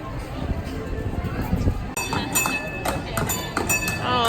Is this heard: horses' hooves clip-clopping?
yes